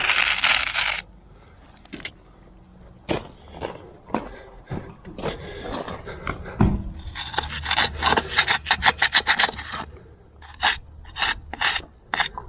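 Rough rasping and scraping strokes sound up close in irregular bursts, with a dense run of quick scrapes in the middle and scattered knocks and pauses around them.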